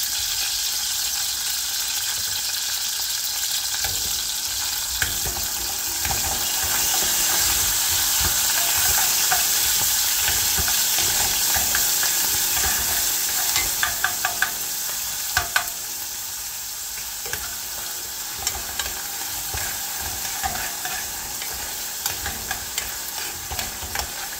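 Green chilli and ginger fry and sizzle in a pan for moringa leaf chutney, with a steady hiss broken by frequent scraping stirs and small pops, close and continuous.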